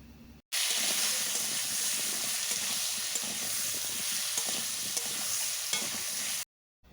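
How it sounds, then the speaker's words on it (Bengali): Potatoes frying in a pan with salt and turmeric, giving a loud, steady close-up sizzle with faint stirring scrapes, starting and ending abruptly. "লবণ আর হলুদ গুঁড়ো দেওয়ার পর নাড়াচাড়া করে ভেজে নেব।"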